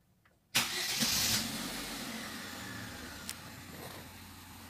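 Wuling Confero engine starting with a sudden loud burst, then settling into a steady, fairly quiet idle while running on engine flush.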